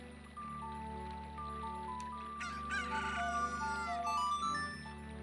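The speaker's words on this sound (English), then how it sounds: "Look at this chicken." Video game chicken heard over steady game music, giving a crowing cock-a-doodle call and a few squawks partway through, with no one speaking.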